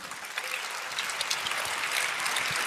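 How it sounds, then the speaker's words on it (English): Applause from an audience at a community gathering, a steady, dense patter of many hands clapping at moderate distance, sustained without a break. "everyone give him a round of applause"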